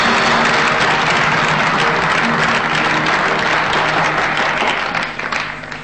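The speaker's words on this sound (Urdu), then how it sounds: "آپ ان دونوں کے لیے تو ایک دفعہ تالی ضرور بجائیے." A studio audience applauds two quiz contestants with dense, sustained clapping for several seconds, loud and close, tapering off toward the end.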